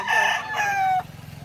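A Sweater gamefowl rooster crows once, close and loud, a single drawn-out call lasting about a second, on a gamefowl farm in Lipa, Batangas.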